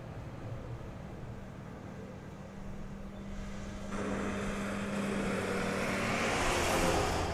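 American Airlines Airbus A321 jet departing Dallas/Fort Worth airport, a steady distant engine rumble and roar that swells louder about halfway through as it powers away.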